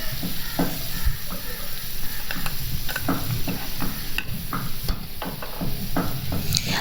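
Chicken necks frying with tomato puree for pulao sizzle loudly while a utensil stirs and scrapes the pan in frequent irregular knocks, close up and without voices.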